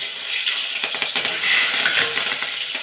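Mustard seeds pop and spit in hot sunflower oil with shallots in a pan, a busy crackle of sharp little ticks and snaps over a steady sizzle, close and fairly loud, with no talking.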